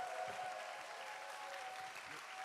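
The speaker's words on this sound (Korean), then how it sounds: "우리 크게 박수하며 환영하겠습니다." A church congregation at a youth summer retreat revival service applauds steadily to welcome the pastor, a soft, sustained wash of many hands clapping at a distance with no talking over it.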